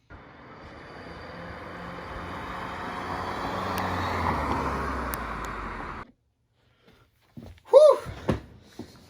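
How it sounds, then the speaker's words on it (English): A 2005 Honda Civic on the highway at about 25 miles per hour, a broad engine and road rumble swelling gradually as it passes near, then cutting off abruptly, followed by a few short thuds and knocks. "That right there was a 2005 Honda Civic, barreling down the highway at a whopping 25 miles per hour."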